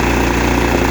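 A Kohler PowerPlus 17 small engine runs at full open throttle, a steady loud close drone, despite erratic high-end RPM and hard cold starting.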